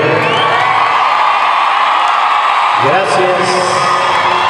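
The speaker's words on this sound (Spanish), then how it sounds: "gracias por esos aplausos que me han llenado el alma de felicidad y de cariño" A crowd applauds and cheers at a concert in a loud, continuous roar of clapping and shouts while someone speaks over it.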